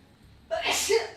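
A single close, abrupt sneeze bursts out from a person at a live trading desk, loud and sharp after a quiet moment.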